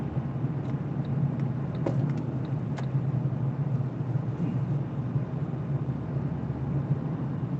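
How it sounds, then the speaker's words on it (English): Steady low rumble of road traffic, continuous and fairly loud throughout, with a few faint higher clicks and ticks scattered over the drone and no speech. "Bad traffic."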